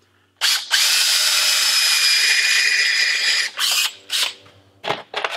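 A power drill drives screws into a melamine mold for resin casting: one long, loud high whine close up, then several short bursts as the screws seat, with no talking.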